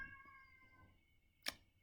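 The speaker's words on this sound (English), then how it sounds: "That's my cat." A house cat gives one short, sharp meow near the end, following a faint tonal hum and quiet background; no one speaks.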